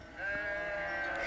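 A single sheep bleats in one long, wavering call, held steadily and fairly faint, with no talking around it.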